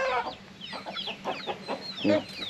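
Several farm chickens clucking and squawking close by, a busy overlapping run of short calls with a louder cackle near the end, on a poultry farm.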